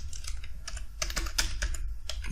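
Quick, light keystrokes on a computer keyboard as a city name is typed, an irregular burst of close clicks and taps without any voice.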